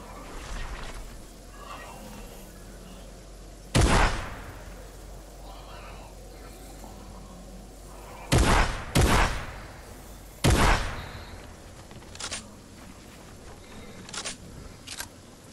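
Sniper rifle shots in Fortnite crack out as a handful of loud, sharp reports, one alone and then a quick pair followed by another, with fainter pops trailing after and voices talking in the background.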